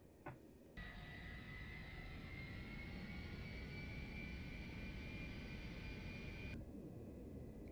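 Simulated Lockheed L-1011 jet engines spooling up in a flight simulator game, a steady loud roar with rising whining tones that holds for several seconds before cutting off abruptly.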